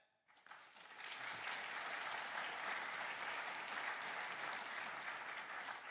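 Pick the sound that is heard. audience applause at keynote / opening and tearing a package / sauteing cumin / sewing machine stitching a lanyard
audience applause at keynote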